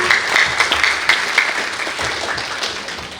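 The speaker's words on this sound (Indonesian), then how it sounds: "Tepuk tangan!" Loud applause rises at a church worship service, dense overlapping hand claps with a few sharper individual claps standing out, sustained and gradually easing off.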